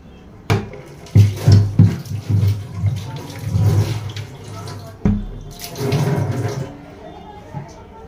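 Water splashes and gushes in uneven bursts while a drum is rinsed, the pours rising and falling loudly up close with a few knocks, and voices are heard nearby.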